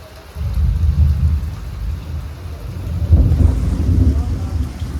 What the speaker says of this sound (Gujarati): મિત્રો અત્યારે બહાર વરસાદ બહાટી બોલાવે છે. ભૂક્કા કાઢના વરસાદ આવે છે.